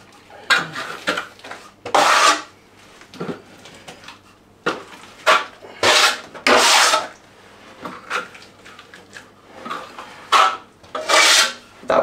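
Steel trowel spreading plaster across a wall and dragging it down from the top, heard as loud, rhythmic rasping sweeps with short pauses between strokes, close up and without speech.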